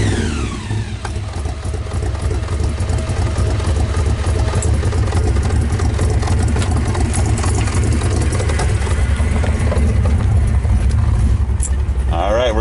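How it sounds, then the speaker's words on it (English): The engine of the Mad Max Pursuit Special Interceptor XB Falcon idles with a loud, steady, close rumble that holds evenly throughout. "before we ship this thing out, we're going to take it for a quick test drive"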